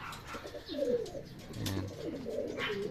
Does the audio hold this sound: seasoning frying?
no